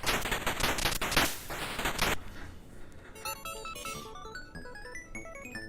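Rapid arcade shooting in the 1989 Taito game Insector X, ending a boss fight with a loud dense burst of gunfire and explosions, then a bright chiming jingle of beeping tones.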